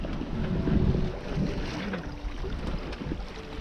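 Sailboat under way on the open sea: steady rushing wind and water against the hull, close and continuous, with low creaks and thumps from the boat, and no talking.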